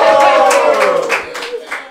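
A crowd at a rap battle claps and cheers for the DJ, loud and dense at first, then thinning into scattered claps over two seconds, with voices shouting over it.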